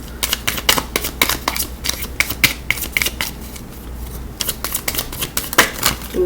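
Tarot cards being shuffled and drawn by hand, a dense run of crisp, rapid riffling clicks and flicks with brief pauses, close and fairly loud, with no talking.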